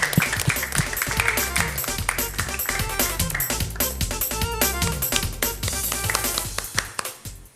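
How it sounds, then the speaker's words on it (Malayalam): A group of people clap together in a dense, steady burst for about seven seconds. The clapping is close and fairly loud in a studio audience gathered for a children's television show. "Okay, ready, clap."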